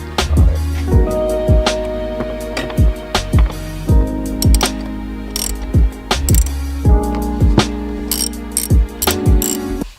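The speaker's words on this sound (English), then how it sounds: "I'm just gonna take these bolts off" Ratchet wrench clicking in repeated bursts as bolts come off a car dashboard during a G37 dash teardown, close and loud, with sharp metallic ticks and occasional clanks, no talking.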